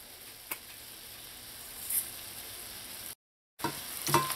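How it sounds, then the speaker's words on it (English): Cashew nuts and spices fry in a pan with a steady, soft sizzle, and a spoon scrapes through them in a couple of brief stirs before the sound cuts out for a moment and then resumes. "Add in the cashew nuts and give this a mix, and season with a little bit of salt."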